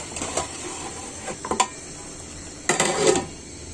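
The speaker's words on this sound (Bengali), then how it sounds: "অল্প করে একটু ঢেকে দিব" A lid is set on a cooking pot of taro stolons simmering with lentils. A few close metallic clanks and rattles come in two short clusters against a quiet kitchen background.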